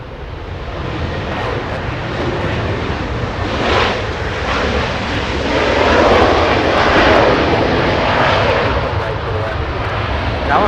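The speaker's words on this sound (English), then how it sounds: "We got a WestJet touching down." A WestJet airliner touching down at Los Angeles International Airport makes a loud, continuous engine roar that swells in the middle and stays heavy throughout.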